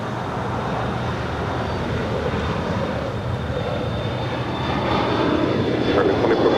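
A Polar cargo plane landing on runway 25 left at LAX, its jet engines a steady loud roar with a thin whine, swelling louder toward the end.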